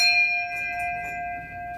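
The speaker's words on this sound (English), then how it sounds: "Got a bell." A bell in a tattoo shop rings with a steady, sustained metallic tone that hangs clearly in the quiet room with no voices over it.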